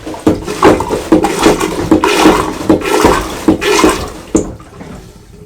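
A hand pump on a marine toilet aboard a Bavaria 46 Cruiser sailboat pushes water through in repeated gurgling, sloshing strokes, about ten in a steady rhythm, close and loud, then stops.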